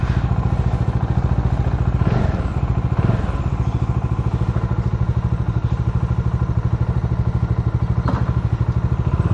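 A BS6 Bajaj Dominar 400 motorcycle engine runs steadily at the start of a ride, a loud, close, even thrumming throb with faint clatter throughout.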